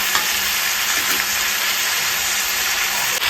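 Chopped bitter gourd and drumstick sizzle loudly in hot oil, a bright, continuous frying hiss with faint stirring scrapes, close up and with no voices.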